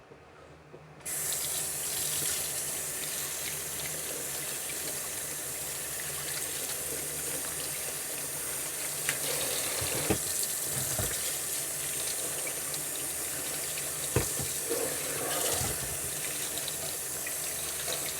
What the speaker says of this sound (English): First, we're going to wash our apples.